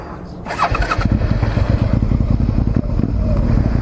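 A motorcycle engine starts and runs loudly close by, its throttle rising as the rider eases the clutch out into the friction zone, a continuous throbbing rumble throughout.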